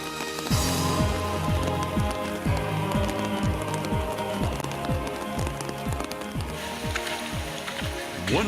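Steady, heavy rain patters continuously on surfaces, mixed with rhythmic thudding footfalls from many runners passing close by at the start of a 1,200-runner race toward Lake Kawaguchiko, Japan.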